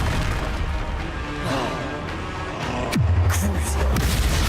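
An Expelliarmus spell cast in Hogwarts Legacy, a loud crackling, rumbling burst that ends in a sharp swooping impact followed by a deep, sustained low boom.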